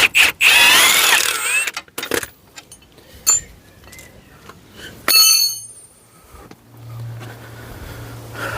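A spanner works a nut on a Nissan X-Trail's suspension, giving sharp metallic clinks and rattles in irregular bursts with quiet pauses between them.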